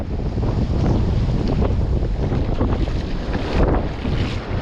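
Storm surf pounds a beach hours before Hurricane Idalia, a steady loud roar of crashing waves and rushing water mixed with heavy wind buffeting the microphone.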